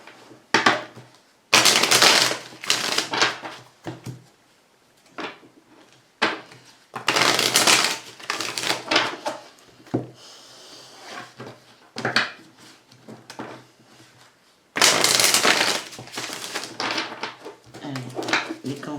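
Tarot cards are shuffled by hand in bursts of dry papery riffling and rustling, separated by quieter gaps with a few light taps and slides of cards on a surface.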